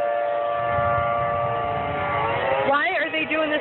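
Tornado warning sirens wail steadily through the night air during a storm, a long sustained tone that bends in pitch near the end, with a person talking over it.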